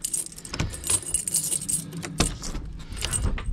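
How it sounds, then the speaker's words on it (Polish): Keys jangle as they are pulled from a pocket outside a house porch, a metallic rattle in several bright bursts with soft handling noise between them, close and alone without talk. "O, gdzie mam klucze? O, w kieszeni są."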